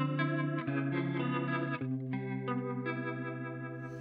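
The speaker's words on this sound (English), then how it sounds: "The next sound on this is my rotary speaker," A guitar played directly through a Strymon Iridium pedalboard with a rotary speaker (Leslie) effect sounds a series of sustained chords, each swirling and warbling with a thick, slightly driven tone.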